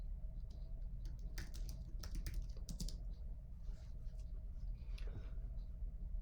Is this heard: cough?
no